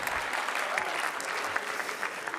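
A school board meeting audience claps steadily at moderate volume for the whole stretch, a dense patter of many hands with no break and no voices on top.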